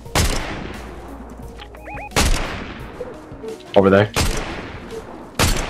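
Gunfire in the Fortnite video game: several sharp, loud single shots spaced a second or two apart, with a voice speaking briefly between them and other game effects in the background.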